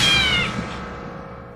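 A cat lets out one loud, drawn-out meow that fades away, a horror-movie jump-scare fake-out with no voices over it.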